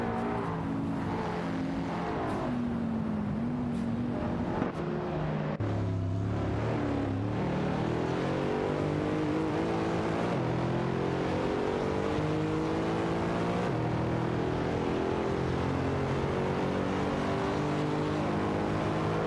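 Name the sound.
race cars overtaking in a racing video game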